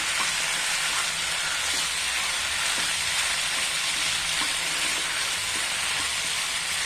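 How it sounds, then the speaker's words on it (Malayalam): Cooked macaroni pasta being stirred into a spiced masala in a hot pan gives a steady, close sizzling hiss with faint scraping underneath. There is no talking. "നമ്മൾ കുക്ക് ചെയ്ത് വെച്ചേക്കുന്ന പാസ്ത ചേർത്ത് കൊടുക്കാം. നന്നായിട്ടൊന്ന് മിക്സ് ചെയ്യാം."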